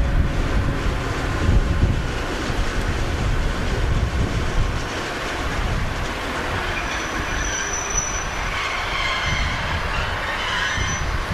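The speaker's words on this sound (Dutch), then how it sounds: "De 6404 wordt een stukje verplaatst en kan daarna van een pauze gaan genieten." Locomotive 6404 shifting a short distance at a Sittard rail yard, a steady low rumble of rolling wheels and machinery with a brief high wheel squeal near the end, wind buffeting the microphone throughout.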